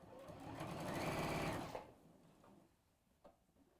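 Sewing machine stitching through textile in one steady, fairly quiet run of rapid stitches that stops abruptly, leaving faint handling noises afterward.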